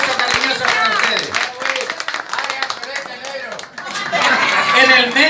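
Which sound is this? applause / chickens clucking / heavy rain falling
applause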